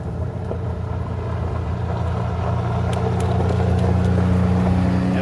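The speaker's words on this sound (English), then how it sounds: "There's cars riding by." Road traffic rolls by in a steady low engine rumble and tire drone, a continuous mid-distance wash of passing cars with no talking.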